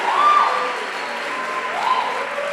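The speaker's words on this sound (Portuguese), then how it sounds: "dê um aplauso a Ele" A church congregation applauds in praise during a sermon, giving a sustained wash of clapping with a few faint sustained vocal tones mixed in.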